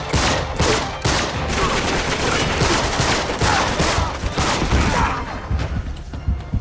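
Sniper and other gunfire crack repeatedly in Uncharted 3: Drake's Deception, loud sharp shots coming in rapid uneven bursts for several seconds, with no voices over them.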